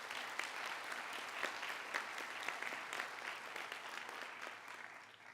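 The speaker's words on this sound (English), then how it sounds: "let's give them a big round of applause" A graduation audience at a college commencement ceremony applauds the faculty in a sustained, even wash of clapping that sounds faint and distant.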